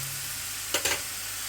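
Carrots cooking with sugar in a pan for carrot halwa give a soft, low sizzle and bubbling, with a brief louder stirring scrape near the middle of the short clip.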